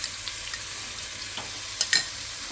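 Garlic and ginger paste frying in a pan while cooking dry black chickpeas, a soft steady sizzle with a few brief stirring scrapes near the end.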